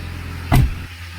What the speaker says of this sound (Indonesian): Suara mesinnya bisa kalian dengarkan, sangat halus.